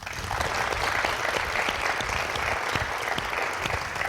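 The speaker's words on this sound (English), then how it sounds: "you thank your parents with a big round of applause" A large crowd applauding steadily and loudly at a scholars' graduation, a dense wash of clapping that holds for the whole stretch.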